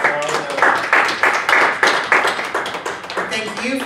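Clapping from an audience at a university legal framework session, with a dense run of hand claps carrying on steadily and close, while a voice talks over part of it.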